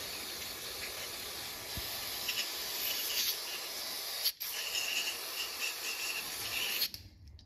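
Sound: spraying cleaner on a car mass air flow sensor

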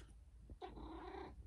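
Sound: cat meowing

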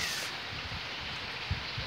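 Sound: rain falling in the Caatinga sertão

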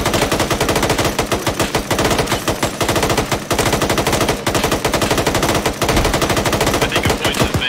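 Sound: gunfire in the video game Arma 3

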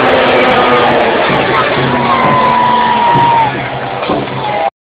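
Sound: crowd cheering in an arena

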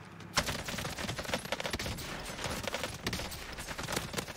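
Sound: AK assault rifle gunfire in the video game Warzone

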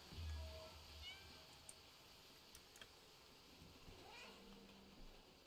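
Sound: cat meowing in the video game Stray

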